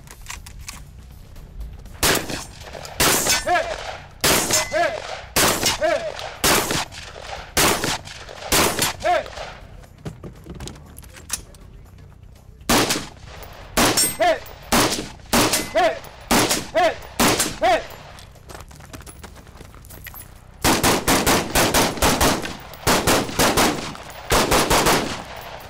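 Rapid volleys of gunfire at a 3-gun shooting championship match, bursts of fast shots separated by short pauses, ending in a long sustained string of rounds, loud and close.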